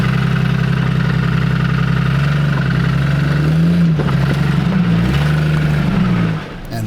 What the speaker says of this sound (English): you can hear the knocking as I try to accelerate up this section.